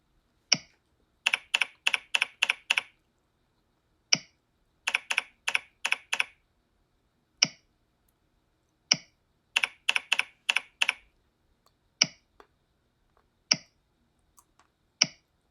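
Computer keys and a mouse click in short bursts while working in a spreadsheet solver dialog, clusters of quick rapid taps separated by single crisp clicks and pauses, close and clear with no talking.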